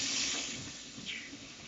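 Tap water runs steadily over canned ackee being drained and rinsed in a sink, a continuous close hiss of flowing water with no talk.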